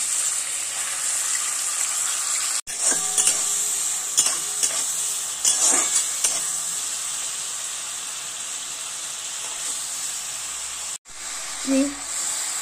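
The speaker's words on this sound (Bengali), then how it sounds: "তেল গরম হয়ে গেছে, আমি এখানে নেব বেশ খানিকটা চিংড়ি মাছ। এটাকে আমি প্রথমে হালকা করে ভেজে তুলে নেব।" Shrimp fry lightly in hot oil in a pan, a constant bright sizzle throughout, broken by occasional stirring clatter and a couple of sudden cuts, with a voice briefly at the end.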